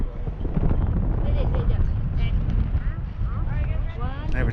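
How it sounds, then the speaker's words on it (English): Strong wind roars across the microphone at a high lookout spot, loud, gusty and continuous, with a person's voice breaking through over the rumble. "That, folks, is a lot of wind"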